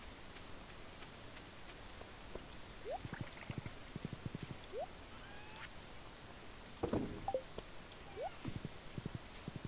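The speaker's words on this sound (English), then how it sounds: "Right, it's raining, but it doesn't look like we have anything up in the fields." Rain patters softly and steadily in a farming video game, quiet and continuous, with scattered light knocks and faint chirping sounds over it.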